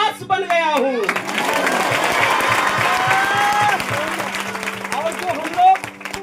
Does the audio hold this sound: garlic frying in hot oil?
no